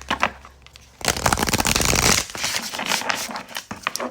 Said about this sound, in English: I'm just going to give it one shuffle and then one cut